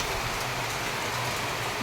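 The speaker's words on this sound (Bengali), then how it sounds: "এই হাওয়া দিয়ে বৃষ্টি হচ্ছে, পুরো হাওয়া হচ্ছে বৃষ্টিতে" Wind-driven rain pours outside, a continuous, fairly even hiss of rain striking surfaces with soft gusty swells underneath, heard alone without any talking.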